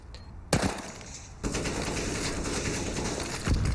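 Automatic rifle fire in a replay of a CS:GO match on the Overpass map: one sharp shot, then a long dense burst of rapid gunfire, loud and close, ending with a final louder crack.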